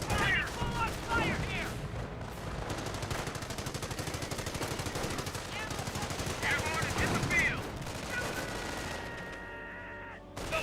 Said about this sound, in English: he gets suppressed there by the 30 cal